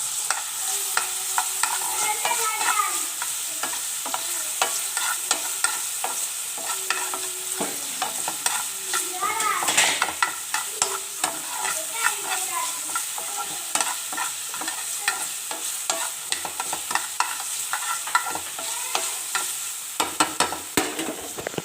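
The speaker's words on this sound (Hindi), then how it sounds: "और इसी में ही हम लोग लेंगे थोड़ा सा ऑयल, जिसमें हम अपनी वेजिटेबल्स फ्राई करेंगे।" Onion fries in a little oil in a pan, sizzling steadily up close while a utensil stirs it with repeated scraping and clinking; nobody speaks.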